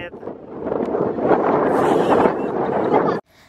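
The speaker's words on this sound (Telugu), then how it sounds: "గాలి ఎంత గట్టిగా వస్తుందో చూడండి" Strong wind buffets the microphone beside a car on an open road, a loud, roaring rush that swells and holds for about three seconds before cutting off abruptly.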